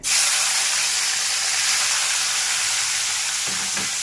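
Two tomatoes hit hot reused cooking oil and fry with a loud, dense sizzle that flares at once and holds as a steady close hiss, with a few faint clinks near the end.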